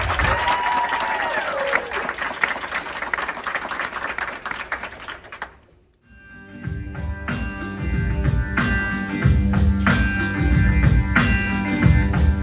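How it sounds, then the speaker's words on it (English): An audience at the Weeki Wachee Springs mermaid show applauds and cheers, a loud crowd clapping that drops to near silence around midway, then returns under music or show sounds. "Let's set her off with a big round of applause"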